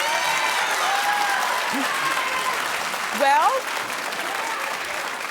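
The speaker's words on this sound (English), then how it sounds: "clap if you ignore bills." Studio audience applause on an American daytime talk show, steady dense clapping throughout with a short spoken word over it.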